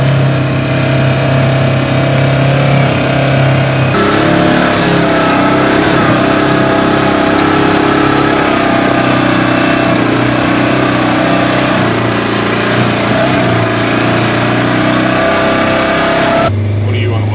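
A 1976 Ford Bronco driving down a rough road, its engine a steady, loud rumble with road and suspension noise filling the whole stretch. People talk inside the cab over it.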